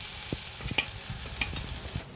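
Grated coconut frying in a wok, with soft sizzling under repeated close scrapes and taps of a spatula stirring in an irregular rhythm.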